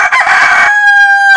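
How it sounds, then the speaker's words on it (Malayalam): A rooster in Kerala crows once on command, a loud, close, strained call that rises and holds a bright sustained tone before breaking off at the end. "അപ്പൊ ഇയാൾ സിനിമയിൽ അഭിനയിച്ച പൂവങ്കോഴിയാണ്."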